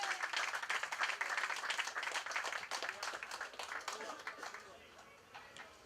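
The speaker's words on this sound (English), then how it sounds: "Give these young persons a round of applause," A crowd at a political district launch event claps for young community members, a brisk burst of applause that gradually fades, with some talk mixed in.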